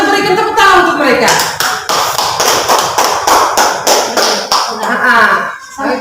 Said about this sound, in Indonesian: Sekali lagi kita berikan tepuk tangan untuk mereka.